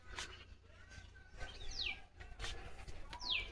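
Small birds chirp sporadically at low volume, with a few quick descending tweets standing out over a quiet background.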